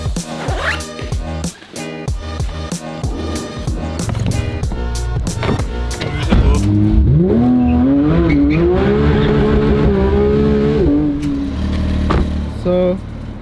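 A car drives past at a car event. Its engine is loud and close and climbs in pitch as it revs, with squeaky, sputtering noise before and after.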